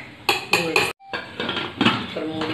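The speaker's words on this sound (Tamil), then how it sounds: "மூடி வச்சிடலாம், வெயிட் போடலாம்." Pressure cooker lid set down over vegetable kurma, a run of close metallic clanks and scrapes, a brief pause, then more clattering as the lid is fitted and locked.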